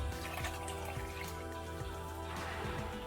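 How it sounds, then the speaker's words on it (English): Herbal tea is poured into a cup for a Haitian herbal bath, giving a steady close liquid stream that runs continuously for a few seconds with no voices. "So we're gonna pour it into the cup."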